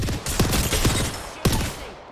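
Enemy gunfire in a shooter video game, rapid bursts of loud close shots in a dense rattling stream, with a couple of sharper cracks standing out.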